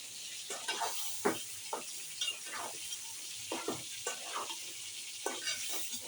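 Chicken being stirred and sautéed in a hot pan at home, with a steady frying sizzle and repeated scraping, stirring strokes spaced across the clip, close and moderately loud.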